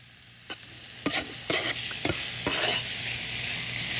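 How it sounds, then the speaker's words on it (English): Pork dropped into a hot skillet, a bright hiss of frying that builds and spreads as the meat is stirred, with several sharp clacks of a utensil against the pan, close and without speech. "You wanna hear that sizzle."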